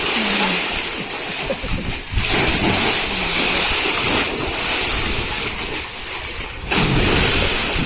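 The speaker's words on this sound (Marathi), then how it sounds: "लाटा अशा खवलेल्या आहेत" Rough ocean waves crash and surge on the Konkan coast, loud and continuous with wind buffeting the microphone, while someone talks excitedly over them.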